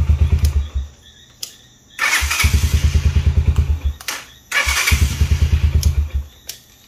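A motorcycle that won't shut off starts and runs in three loud bursts, each a rapid, throbbing run of engine pulses with short quiet gaps between them.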